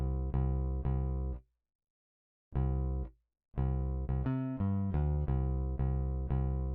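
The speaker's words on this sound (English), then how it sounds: "took the Rickenbacker bass, which I can recommend you all. I just laid down this bouncy pattern" Rickenbacker bass from a Kontakt sample library plays a bouncy, groovy pattern of short plucked notes, stopping briefly before resuming with a quick run of notes and a steady repeated figure, loud and alone.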